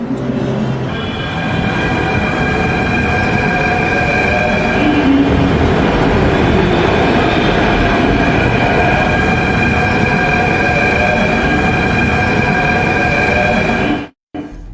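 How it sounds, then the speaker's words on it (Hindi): A Delhi metro train runs steadily for about fourteen seconds, a loud, close, continuous rumble with ringing tonal whine above it, then cuts off abruptly near the end; no voices are heard. "मेट्रो शुरू हो गई है"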